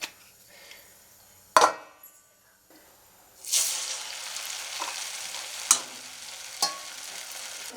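Aval murukku dough frying in hot oil, with a loud sizzle bursting up as it goes in, a sharp clatter of the press or ladle, and a steady bubbling hiss afterward.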